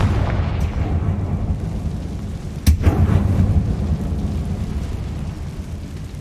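A Confringo spell going off in Hogwarts Legacy on PS5, a single sharp explosive blast about midway through, set over a low rumbling game backdrop.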